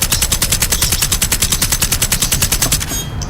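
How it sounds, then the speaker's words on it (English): Rapid automatic submachine gun fire from the video game Generation Zero, a near, loud, evenly spaced burst of about twenty-five shots lasting around three seconds, with no talk over it. "And now I'm using my submachine gun,"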